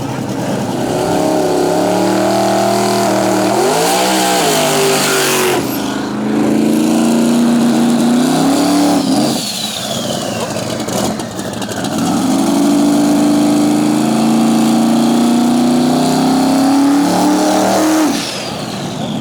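A drag race car engine roars loudly through a burnout at a drag racing event, with sustained high revs that rise, drop and surge again, close and overpowering.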